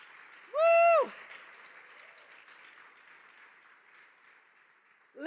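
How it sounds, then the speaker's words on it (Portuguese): Steady crowd applause from a church congregation applauding the Lord, a sustained wash of clapping cut across at the start by a loud rising-and-falling sung or shouted tone. "Dê um forte aplauso ao Senhor"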